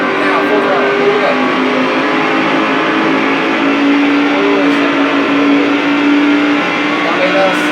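A race truck in the NASCAR 2005 video game, Craftsman Truck Series, runs at full throttle: a loud, steady engine drone holding constant pitch for the whole stretch with no letup.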